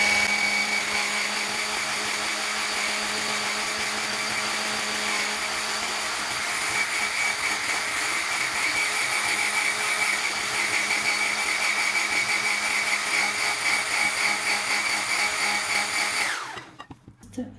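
An electric mixer whirs steadily and loudly through cake batter as oil is poured in, a constant motor drone that cuts off near the end.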